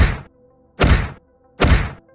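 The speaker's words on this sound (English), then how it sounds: "It was your father, booming his legs on the ground to wake up the mob." Kangaroo thumping its legs on the ground to alert the mob: three heavy, evenly spaced thuds, loud and close, with silence between each impact.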